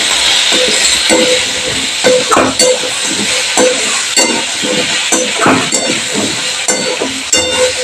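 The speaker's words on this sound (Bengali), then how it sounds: "আলুটাকে আমি একটু লাল লাল করে ভালো করে ভেজে নেব।" Potatoes fry in a pan on a gas stove for a mushroom-style kofta curry, giving a loud, steady sizzle with frequent stirring clatters and scrapes throughout, without any talk.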